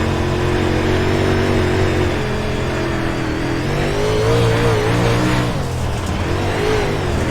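A big block modified race car engine in a racing game mod roars steadily and loud throughout, with revs rising and easing and occasional tire squeal, no voices.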